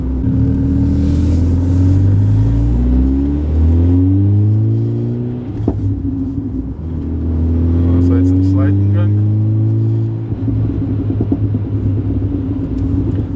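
A loud, deep tuned VW Golf Mk5 engine (370 hp) rumbles close by, its pitch climbing and falling through several revs, with a burst of overrun crackling midway and a voice speaking briefly.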